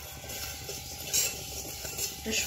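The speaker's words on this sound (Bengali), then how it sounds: "আমি এখন ভেজে নেব পরিমাণ মতন ধনে, দিয়ে দেবো জিরে, একটা তেজপাতা" Coriander, cumin and a bay leaf being dry-fried in a hot wok over a gas flame, heard as a soft continuous sizzle with light scraping and stirring clinks, close and fairly quiet, no voices.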